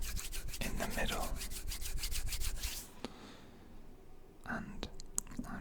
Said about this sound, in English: as I rub my hand from side to side